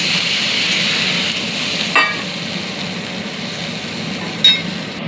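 Water poured into hot oil for a Katla fish curry sets off a steady, close sizzle and bubbling, with a couple of brief metallic clinks from a utensil against the pan.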